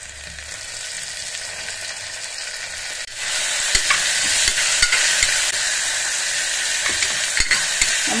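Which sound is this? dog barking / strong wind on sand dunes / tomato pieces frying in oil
tomato pieces frying in oil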